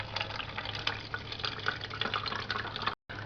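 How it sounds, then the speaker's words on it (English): Water filtering through a single layer of woven cotton cloth into a bottle, a steady close trickle and patter of dripping liquid with a faint low hum, cutting off briefly near the end. "The water does go through fairly quickly, provided there's some pressure."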